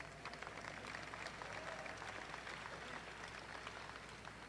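A crowd at an outdoor memorial ceremony in Philadelphia applauds in a dense, even patter of many hands that holds steady throughout, heard somewhat faintly and at a distance.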